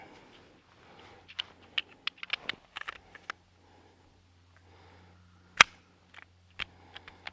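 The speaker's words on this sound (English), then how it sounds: "Mag's in." A magazine goes into an ATI Moxie FXH45 hybrid 1911 pistol, with a scatter of small metallic handling clicks and one sharp, louder clack partway through, close and otherwise quiet.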